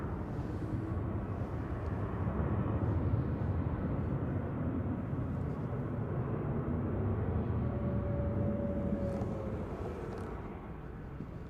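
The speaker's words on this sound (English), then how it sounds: "KLM 1028 to Amsterdam, departing there, PHHSE" A KLM Boeing 737-800 departing Manchester Airport for Amsterdam, heard as a continuous, moderately distant jet rumble with a faint rising whine, steady and slowly tapering near the end, with no voices.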